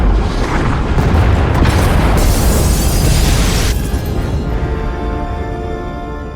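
Pod bays blow apart in Star Wars: The Old Republic, a loud sustained roar of explosion rumble and crackling debris that gradually eases off over several seconds.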